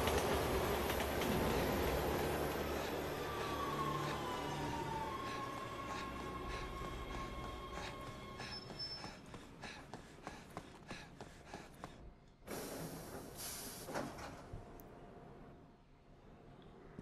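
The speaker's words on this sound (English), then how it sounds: "Look out! Train!" A train passing in the video game Resident Evil 6: a loud rumbling roar fades into rhythmic clacking and rattling wheels, then tails off into quieter track noise.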